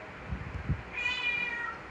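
An indoor cat gives a single drawn-out meow, faint and slightly distant over a steady background hiss, after a couple of low soft thumps.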